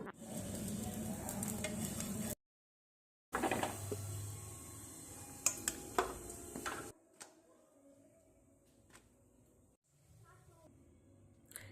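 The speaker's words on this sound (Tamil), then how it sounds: "இந்த ஆனியன் இன்னும் ஃப்ரை பண்ணால் இன்னும் டேஸ்ட்டாக இருக்கும்." Onion fries in a pan with a crackling sizzle and occasional stirring clicks; the sound breaks off for a moment, then returns as a fainter, quieter sizzle.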